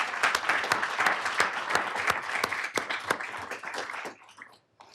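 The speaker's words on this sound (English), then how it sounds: "Please give Gabriel Navarrete another big round of applause" An audience at a city council meeting gives a round of applause, individual claps clearly audible in a brisk burst that thins out and fades to near silence at the end.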